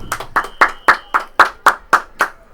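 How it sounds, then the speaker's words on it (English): Several loud, evenly spaced handclaps, about nine in a steady rhythm, from an audience during a high school varsity track broadcast, close and crisp with brief gaps between each clap. "It's a true honor to be applauded by you guys."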